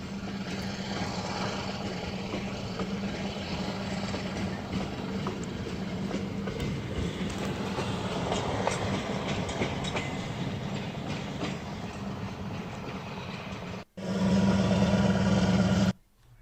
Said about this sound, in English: There's your Q train, Betty.